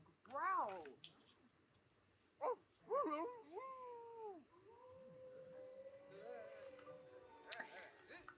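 Werewolf growling and howling in The Sims 4, a mix of drawn-out guttural growls and rising animal-like howls at moderate volume, with a person talking in French between the sounds.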